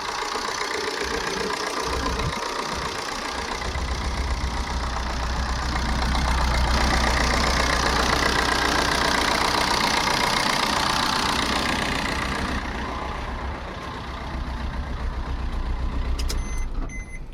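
A 2014/15 Maruti Swift Dzire VDI diesel car engine idling, a steady close diesel rumble and clatter that swells slightly midway and then settles.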